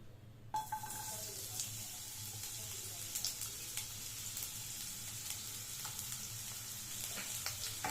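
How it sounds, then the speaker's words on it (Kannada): Two medium onions sizzle after dropping into hot oil in a pan, a sudden burst of frying followed by a steady, close crackle with small pops and occasional stirring noises. "ಈಗ ನಾನು ಕಟ್ ಮಾಡಿ ಇಟ್ಕೊಂಡಿರೋ 2 ಮೀಡಿಯಂ ಸೈಜ್ ಈರುಳ್ಳಿನ ಹಾಕೋತಾ ಇದ್ದೀನಿ."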